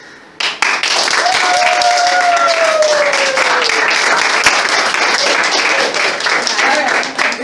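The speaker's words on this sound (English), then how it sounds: "Just receive all of our applause one more time, okay?" An audience at a personal-development event breaks into loud sustained applause after a quiet start, thick clapping with a whoop or cheer riding over it and murmured voices beneath.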